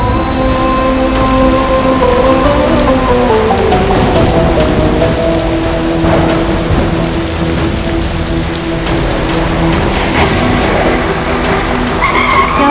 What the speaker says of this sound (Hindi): बारिश होने वाली है।